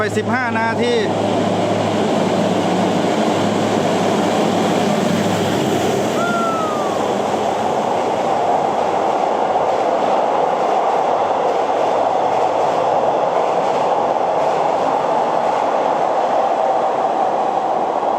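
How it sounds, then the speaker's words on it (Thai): Rapid passenger train 167 from Krung Thep Aphiwat to Kantang, hauled by a diesel locomotive, arrives with a sustained loud rumble and rolling wheel clatter, a brief horn-like tone midway, and a voice briefly at the start. "มาแล้วขบวนโดยสารที่ 167 รถเร็วนะครับรถเร็ว 167"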